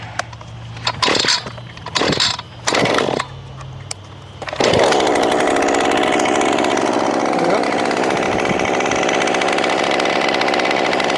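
An Echo PAS 2620 X Series weed eater with a 25.4 cc two-stroke engine is pulled a few times, then catches and runs at a loud, steady idle, close by.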